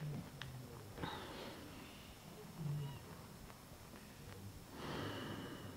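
Slow, deep breathing during a yoga session, with long, soft inhales and exhales drawn at an unhurried pace, quiet and close in a calm room.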